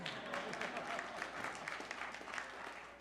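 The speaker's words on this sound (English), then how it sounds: "You can clap for that." Congregation clapping at a church service, a steady, fairly quiet wash of many hands from a sizable group that holds evenly for a few seconds.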